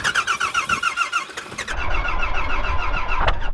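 A 12-valve Cummins diesel in a Ford truck, stuck in snow, cranks with a rapid rhythmic starter whine, then catches into a loud, steady, close-up rumble.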